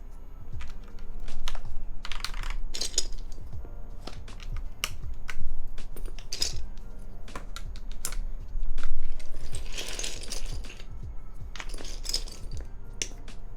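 Typing on a computer keyboard with thick keycaps, close and crisp irregular clacking with quick bursts of keystrokes and short pauses.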